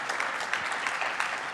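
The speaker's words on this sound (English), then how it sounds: "give him a round of applause." Audience applause at a political conference, a steady dense burst of clapping from a large crowd, continuous and fairly even throughout with no talk over it.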